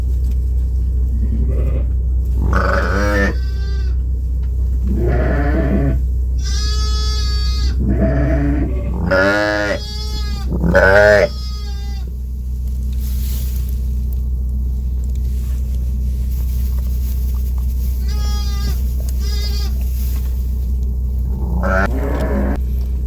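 Sheep and lambs on a farm in Bulgaria during lambing season bleat repeatedly, some close and loud, others fainter, over a steady low engine-like rumble throughout.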